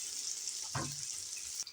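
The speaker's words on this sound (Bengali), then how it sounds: "এবার আমি ভেজে নেব সেই শুকনো মাছ দিয়ে লোটে শুকনো একটু হলুদ দিয়ে দিচ্ছি" Dried Bombay duck fish, seasoned with turmeric and a little salt, frying in hot oil makes a soft, steady sizzle that hisses evenly throughout, with a brief clink of stirring in the middle.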